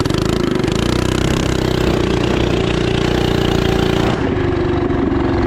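A 212cc engine swapped onto a Coleman minibike that was once sunk revs loudly and steadily while ridden around a yard, with a strong buzzing drone that dips briefly near the end before picking back up.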